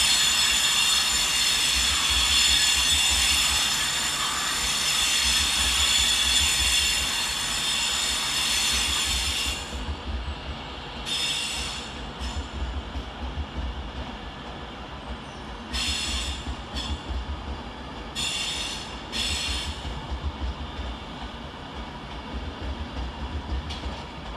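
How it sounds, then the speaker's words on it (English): Class 390 Avanti West Coast unit 390-124 pulls out of London Euston on the Glasgow Central service, a steady hum and rumble with high whining and squealing, then intermittent bursts of wheel squeal as it draws away. "London Euston with 390-124, departing 10 minutes late with the 14:30 Avanti West Coast service to Glasgow Central"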